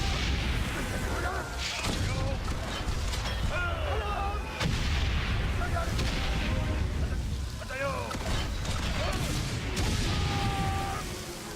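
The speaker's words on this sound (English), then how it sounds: "Looks like we're getting bombed" Artillery bombardment in the Valiant Hearts: The Great War video game: repeated heavy explosions and booming impacts at irregular intervals, loud and close, mixed with whistling shells and battlefield noise.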